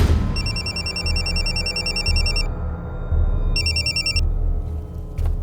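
An electronic telephone ringer trills in two bursts, the second shorter, over a steady low background hum in a Hindi crime drama scene.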